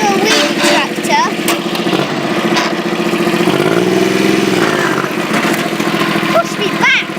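A tractor engine runs and revs while the tractor does a wheelie, with a steady mid-pitched drone and a brief rise in pitch partway through. Someone speaks over it throughout.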